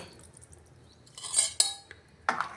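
A utensil scrapes and clinks against a metal pot while stirring ground paste into a tamarind vegetable curry, in a few short bursts, with quiet pauses between, close by.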